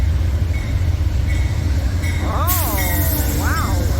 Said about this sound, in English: I was expecting the Sunrail and I got Amtrak.